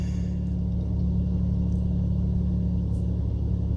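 A 2002 Nissan Pathfinder engine idles steadily close by, a continuous low hum with a faint whine on top that stays even and unchanged throughout.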